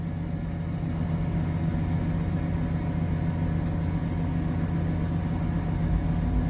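A Ford van engine idles steadily under computer-controlled idle, a constant low rumble with an even hum and no changes in pitch, heard close and alone for the whole stretch.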